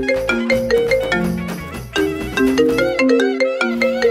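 A mobile phone ringtone plays a bright, steady melodic tune at close range, with repeating chimes and no talking over it.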